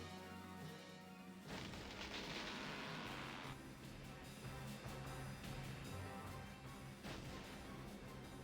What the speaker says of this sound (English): that's the mortar fire going off